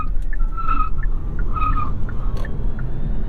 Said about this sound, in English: It really struggles for traction on these little eco tires